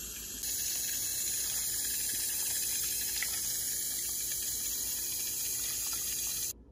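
Water runs steadily from a household tap in a kitchen, a constant hissing stream that starts abruptly and cuts off just before the end, close and alone with no talking.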